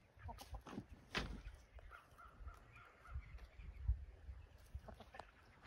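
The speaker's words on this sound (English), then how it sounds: "the Rhode Island Reds are far and away my favorite hens" Rhode Island Red hens on a farm clucking and squawking in short irregular bursts, some calls sharper and louder, fairly close with a low background murmur and no clear talk.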